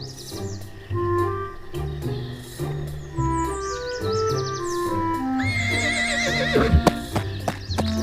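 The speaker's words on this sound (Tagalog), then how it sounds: "dumating sa lugar si Sumusun, isang manlalakbay na nakasakay sa kanyang matikas na kabayo" A traveller's fine riding horse gives a loud, wavering neigh near the end, rising over a continuous bed of melodic music with light hoof clip-clop.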